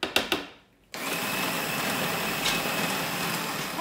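An electric mixer whisking a cooked chocolate filling mixture with powdered sugar starts with a few short bursts, then runs steadily with a constant whirring drone, up close and without talk.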